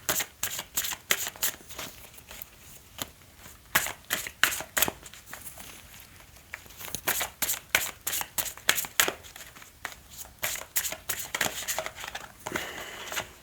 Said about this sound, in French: Allez, on va tirer juste 3 cartes.